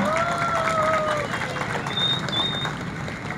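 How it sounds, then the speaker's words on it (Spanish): Applause at a civil wedding ceremony, a continuous hiss of clapping from a gathered crowd, moderately loud, with some murmuring and a faint tonal whistle in the background. "un fuerte aplauso"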